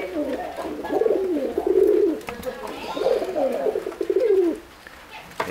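Silver-grey pigeons coo in a loft, repeated soft rolling calls in close succession, near and moderately loud with brief pauses between phrases.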